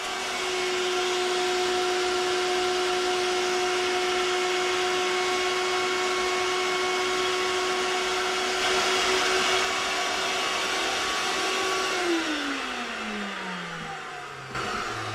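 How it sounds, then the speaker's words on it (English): A vacuum cleaner sucking up loose static grass from a model railway layout runs loudly and steadily, its whine holding constant before winding down in pitch as the motor shuts off near the end. "I'm going to have to hold down the piece here as I vacuum off."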